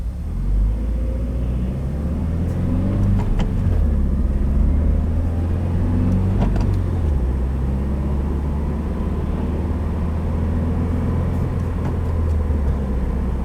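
Low, continuous engine rumble from a 2015 Subaru WRX running a Stage 1 map as it accelerates, heard from inside the car with steady road noise and no speech.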